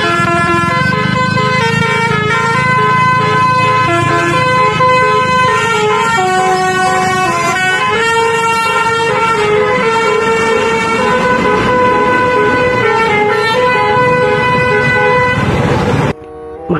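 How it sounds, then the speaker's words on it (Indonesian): The Bristra bus goes by sounding a long, loud, musical horn. The tones step through a changing melody for about sixteen seconds beneath a low engine rumble, then cut off abruptly. "Kali ini ada bus Bristra teman-teman."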